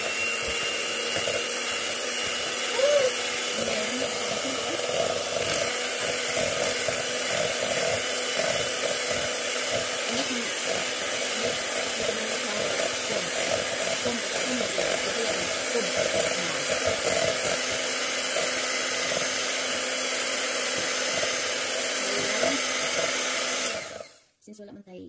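An electric hand mixer beats egg whites for an ube chiffon cake, giving a steady high motor whine with faint bowl scraping throughout, then cutting off abruptly near the end.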